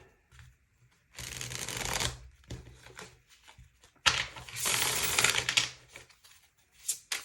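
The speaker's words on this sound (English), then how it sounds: "A solid shuffle here." Tarot cards being shuffled in two long riffling bursts, each lasting about a second or more, with quieter handling taps and card slides between them, close and clear with no talking.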